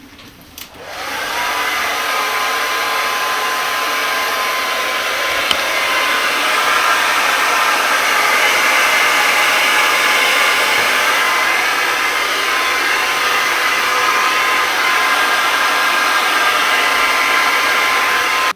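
Hair dryer blowing steadily on hair extensions while a helper holds them still, starting with a brief click and then a loud, continuous whooshing roar that stays constant for the full length with no talking.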